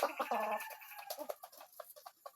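A White Kelso gamecock rooster clucks and calls nearby, a short run of throaty, choppy notes that fade into softer clucks.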